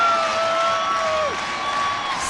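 A sellout basketball crowd at the Pan-Am Center cheers and roars at the end of a 74-70 game, a steady, loud wash of voices with a whistle-like tone running through it.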